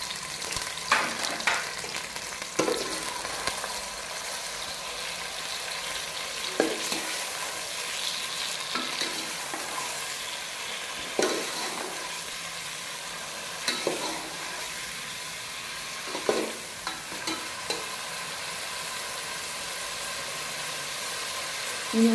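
Chopped onions and tomatoes sizzle in a pan for a dhaba-style chana dal tadka masala. The loud, constant frying crackle is broken every few seconds by a utensil stirring and scraping.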